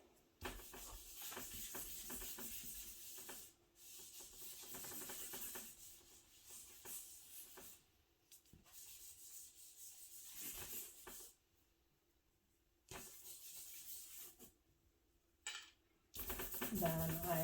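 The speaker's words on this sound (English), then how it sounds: "rub it with my fingers again and come back in again with my eraser" Charcoal rubbed across drawing paper during a portrait sketch, a soft dry scratchy rasp in steady strokes with brief pauses between passes, close and fairly quiet.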